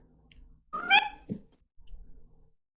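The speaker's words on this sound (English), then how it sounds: "Kitty." A cat gives a single clear meow near the microphone, with a short rising-then-falling tone, between quiet pauses.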